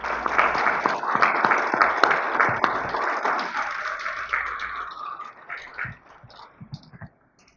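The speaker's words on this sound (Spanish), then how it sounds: "Lo recibimos con un aplauso" Applause from an audience at a commemorative panel, a burst of clapping that fades out over several seconds, leaving a few scattered claps.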